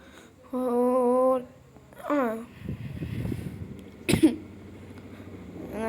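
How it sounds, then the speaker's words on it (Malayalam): A sharp cough bursts out briefly, following a tonal ringing and some murmuring sounds in the background. "ചുമയുണ്ട്, കുഴപ്പമില്ല."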